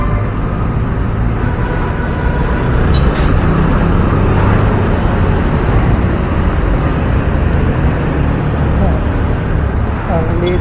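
Dense, loud road traffic with buses and other vehicles on a narrow road under MRT construction, a continuous roar of engines filling the whole stretch with a brief hiss of air brakes near the start.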